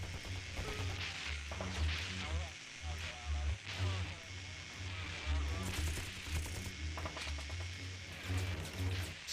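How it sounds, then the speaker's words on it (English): Gunfire in the horror shooter Afterfall: InSanity: several sharp, loud bursts of shots crack out at irregular moments over a thick bed of game music and rumbling ambience. "Sounds of gunfire."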